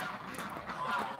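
Ducks and geese at a barn give honking calls, soft and somewhat distant, in a brief burst with no talk.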